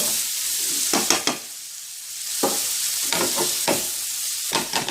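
Chicken gizzards sauté in ghee in a pan, a continuous sizzle broken by repeated stirring scrapes in uneven bursts, close and fairly loud.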